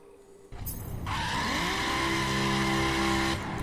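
Godzilla dragster in The Crew Wild Run: a brief rumble, then the engine roars up and holds a loud, steady high-revving scream as the tires spin in place to warm up, cutting off near the end.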